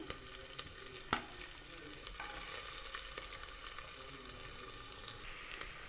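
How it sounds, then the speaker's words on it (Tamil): Chopped onions sautéing in ghee for a brinjal gravy and ghee rice meal give off a steady, moderate sizzle with occasional stirring scrapes and one sharp knock near the start, and no talking. "இப்போ அதே நெய்யில் நம்ம வெட்டி வச்சுருக்கிற அந்த வெங்காயத்தை நல்லா வதக்கி எடுத்துடலாம்"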